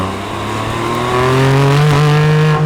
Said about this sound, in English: Its exhaust shriek and that amazing grip through all the corners will leave you totally hooked.